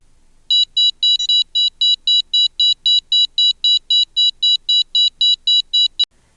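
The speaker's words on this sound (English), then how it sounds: "you will hear a long regular beep indicating that the dose has been achieved" A DOVE scanner sounds a long regular train of about twenty identical high electronic beeps, evenly spaced and clear, signalling that the dose has been reached, then stops with a sharp click.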